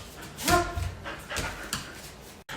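A dog lets out a short yip and whimpering noises along with panting and a few scuffles, moderately close, in a room with faint background activity.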